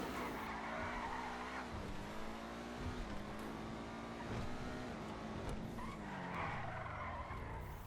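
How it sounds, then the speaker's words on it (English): An SM722 sports car based on the Mercedes-Benz SLR Stirling Moss skids in GTA V, its engine droning under loud, sliding tire squeals that rise and fall in pitch through the whole stretch. "This is the SM722, which is based on a Mercedes-Benz SLR Sterling Moss."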